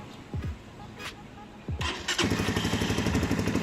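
A Rusi Flash 150X motorcycle, a scooter with an idle fault, cranks briefly a couple of times, then fires up at about two seconds and settles into a steady, close, loud idle with a rapid putter.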